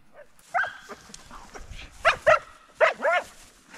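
A young bird-hunting dog barks excitedly in a few sharp, close bursts, pausing briefly between yelps during a grouse and woodcock hunt.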